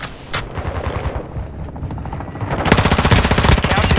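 P90 submachine gun firing in Modern Warfare II (2022), loud rapid full-auto bursts that grow denser and louder toward the end, with scattered shots and game ambience before.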